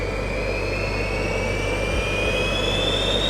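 All five small jet turbines of a Gravity jet suit spool up from cold toward about 30,000 RPM idle, a loud, steady, close whine that rises slowly in pitch over a constant roar.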